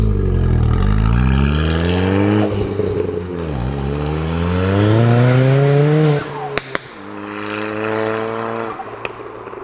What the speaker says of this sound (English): car does make, of course, the odd turbo whoosh, whizzle, bang and pop